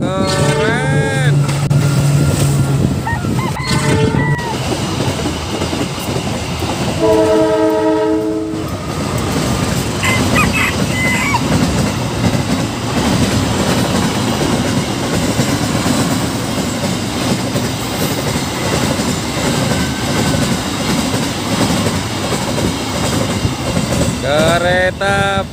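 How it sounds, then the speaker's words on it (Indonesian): A freight train rumbles loudly past up close, wheels clacking over the rails, with several blasts of its horn near the start, middle and end. "Kereta barang"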